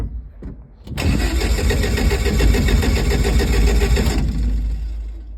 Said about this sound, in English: So I pull the choke out here quite a lot. Give the key a turn, And let's just see what it does.